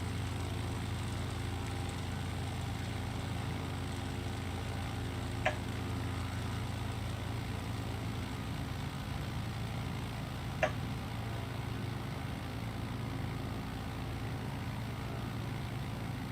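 Steady low drone of an aircraft engine in a flight simulator game during a low, slow flight over the Colorado River, a constant even hum with two faint ticks and no other change.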